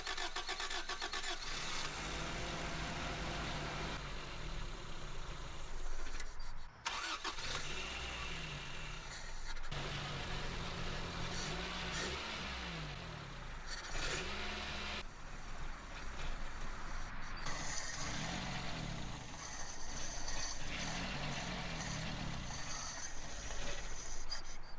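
A temperamental 1980s carbureted engine fresh from a carburetor rebuild, cranking and catching several times, then running unevenly with surging revs, sagging idle and stumbles, close and loud throughout.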